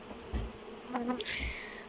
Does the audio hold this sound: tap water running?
no